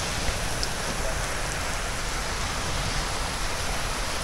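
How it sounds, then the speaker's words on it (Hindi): Very heavy rain pours down over a village in Hisar, Haryana, a loud, dense, unbroken roar of falling water. "आज हमारे गांव में बारिश इतनी तेज हो गई है"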